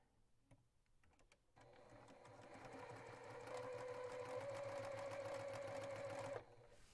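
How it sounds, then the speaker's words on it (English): A sewing machine chain-piecing quilt fabric runs in one continuous, fairly quiet stretch of rapid stitching after a few soft handling clicks, then stops abruptly. "I'm going to sew these two together right here."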